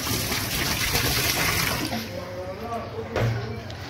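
Water poured steadily into a washing machine tub, with the drain shut, to float the agitator loose: a loud, continuous close gush and splash that thins toward the end.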